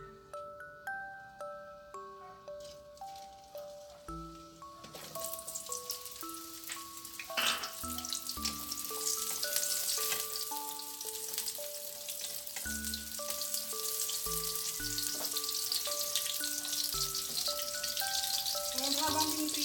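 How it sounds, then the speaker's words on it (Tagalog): Carrots and sweet potato fry in a pan for beef caldereta, a broad, steady sizzle that starts a few seconds in and continues under background music. "At ipiprito natin yung ating carrots at saka yung ating sweet potato."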